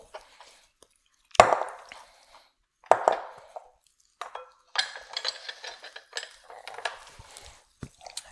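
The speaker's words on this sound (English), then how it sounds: "I'll go ahead and throw them in the bowl." Raw salmon chunks drop into a bowl with two distinct thuds, followed by clinking and rattling of utensils against dishes in a home kitchen.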